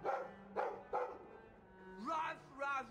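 A dog in the video game Dragon Age II barks three times in quick succession, followed by a couple of higher, whiny yelping calls, moderately close and not loud.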